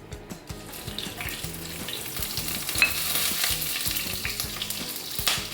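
Mustard seeds, cloves, cardamom and cinnamon sizzle steadily in hot oil for a Kerala-style clam roast, a continuous bright crackling hiss close by with faint stirring, no voices.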